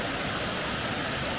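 A waterfall on a Pennsylvania stream, with a tree down in front of it, gives a steady, dense rush of broadband white water that holds unbroken and fairly loud for the whole moment, with no voices over it.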